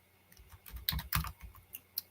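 Scattered keystrokes on a computer keyboard, a handful of soft taps and a couple of sharper clacks in an uneven rhythm, close and otherwise quiet.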